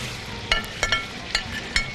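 Chopped onions hit hot oil in a pot for Balochi pulao, giving a steady close sizzle with a few sharp spattering crackles and stirring knocks at intervals.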